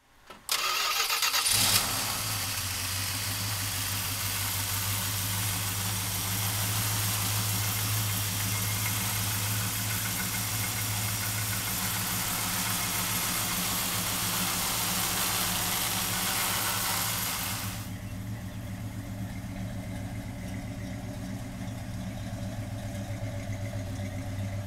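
A 1972 Plymouth Duster 340 V8 cranks and catches after a brief pause, then settles into a loud, steady, rumbling idle that continues close by until the end, with a slight drop in level near the close.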